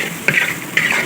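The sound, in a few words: stirring food in a cooking pan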